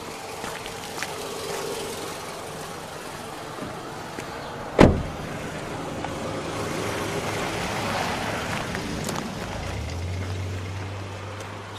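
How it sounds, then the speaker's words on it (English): A car drives by along a rural road near Martinsburg, Pennsylvania, its engine swelling and fading at moderate distance over a low outdoor hum, with a sharp thud partway through and a deeper rumble near the end. "it's a car."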